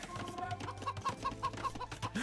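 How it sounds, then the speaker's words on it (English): Game chickens cluck in a repeating series of short, evenly spaced calls during a medieval strategy match, with a low steady hum running beneath them. "Oh man, we have chicken sounds and dolphin sounds, guys."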